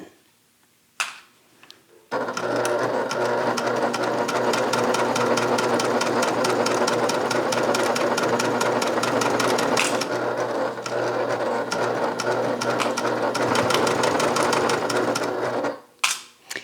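Sewing machine running steadily for about fourteen seconds at a stitch length just under 5, sewing a Talise bag, with brief handling noises at the start and end.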